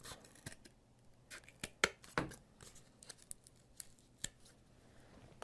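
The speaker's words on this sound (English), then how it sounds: "take your scissors, cut out a section of the template" Scissors cut out part of a paper template for a Toyota tachometer repair. The snips come close and sharp, in irregular bursts with quiet gaps between them.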